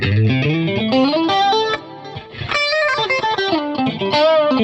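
Clean electric guitar notes played in a flowing phrase with chorus, each note repeating in echoing stereo delays that trail behind.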